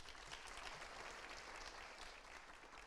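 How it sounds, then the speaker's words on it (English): An audience gives a round of applause at the launch event of a national biosecurity hub, with steady dense clapping that sounds faint and distant and runs without talk for about three seconds. "Can we get another round of applause?"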